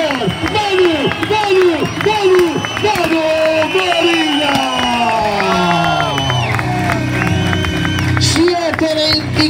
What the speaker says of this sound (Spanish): Ahí veo los aplausos.